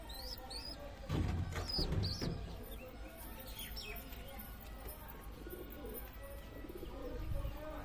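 Pigeons coo softly in low, throaty bursts, with scattered chirps and light rustling around them at close range.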